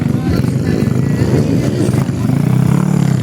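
A motocross motorcycle engine at a charter day race event revs steadily and loudly, a continuous buzzing drone throughout, with a voice talking over it.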